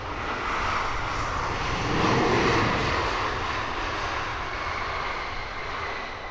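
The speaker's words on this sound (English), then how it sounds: "Great looking plane." An airliner landing at Heathrow Airport on a gloomy morning gives off a steady, loud broadband engine roar. The roar swells slightly midway and holds throughout, with no talk.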